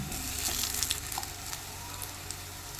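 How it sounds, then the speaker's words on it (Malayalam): Plantain pieces sizzle and fry in a pan, a soft steady crackle with occasional pops and small bursts of spatter, fairly quiet and close, with no one talking. "നമ്മുടെ പഴമൊക്കെ ഒന്ന് തിരിച്ച് മറച്ചു വിട്ട് നന്നായിട്ട് ഫ്രൈ ആക്കി എടുക്കണം"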